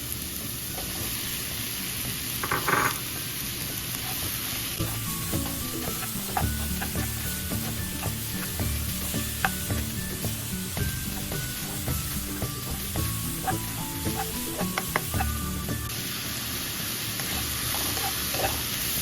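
Mushrooms sauté in a pan with garlic and onion for a creamy chicken mushroom dish, a continuous close sizzle with frequent clinks and scrapes of stirring and a faint steady high whine.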